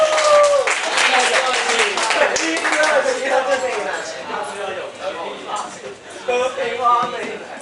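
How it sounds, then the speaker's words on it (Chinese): Audience applause in a high school library reading event, a dense burst of clapping from a crowd lasting several seconds that thins out, with a voice speaking over it. "来，掌声鼓励这位同学哦。"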